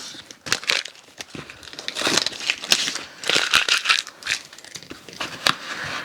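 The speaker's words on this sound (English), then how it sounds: "I'm going to take my tape off first." Tape is peeled off a freshly embroidered duffel bag in a series of close crinkling, tearing rips and plasticky crackles, irregular and fairly loud.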